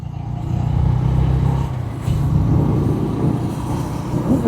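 A car passes and turns on a road, recorded from a moving vehicle. A loud, close engine rumble and road noise swell and ease over a few seconds.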